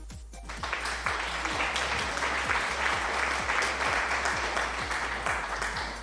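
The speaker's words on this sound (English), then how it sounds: "Why are we clapping? It's broken," Canned applause sound effect from a stream alert, a steady wash of many hands clapping at even loudness for several seconds under a low hum.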